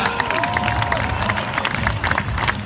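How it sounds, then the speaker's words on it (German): Crowd at an outdoor BMX best-trick contest cheers and applauds after a rider's crash, a dense, continuous roar of clapping and shouting with a commentator's voice running over it throughout. "Dicken Applaus an Pavel"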